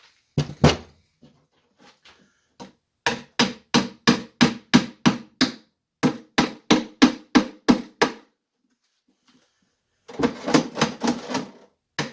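A hammer drives nails into a wooden trap cubby box in quick even runs of sharp close knocks, about eight to ten blows per burst, separated by quiet pauses, with no talk.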